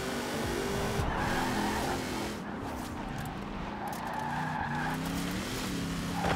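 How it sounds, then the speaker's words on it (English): A Mercedes X-Class pickup drifting in Forza Horizon 4, its tires squealing in long, sustained wails over a loud, steady engine drone that persists throughout. "I don't know why I'm drifting it."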